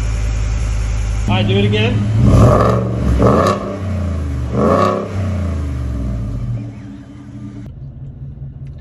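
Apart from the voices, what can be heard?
Ford F-150 5.0 Coyote stock exhaust cold start and revving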